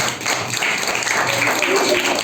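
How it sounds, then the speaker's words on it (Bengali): Audience at a Saraswati Puja celebration and prize-giving bursts into steady, dense clapping, loud and close, with a faint murmur of voices beneath. "জোরে হাততালি।"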